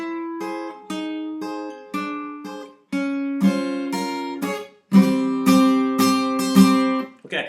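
An acoustic guitar plays the introduction to a song on its own, with plucked chords and sliding notes that descend step by step. Each note is clear and close, and the playing grows fuller toward the end.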